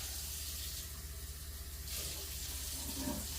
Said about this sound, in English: I'm just using good old-fashioned tap water